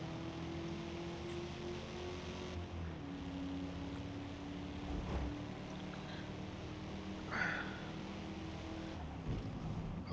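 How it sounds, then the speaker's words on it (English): A 1988 Holden VL Commodore SV with a low-revving V8 engine, driven on a race track in the Forza Motorsport video game, drones steadily and lazily throughout, holding a low, even note with slight shifts in pitch. "It's a low revving V8, isn't it? Yeah, proper American muscle engine."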